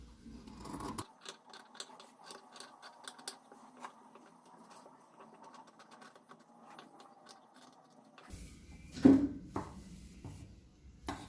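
Scissors snipping through fabric while cutting a square neckline, a run of quick close clicks and cuts, then rustling cloth and a louder bump toward the end, with no talking.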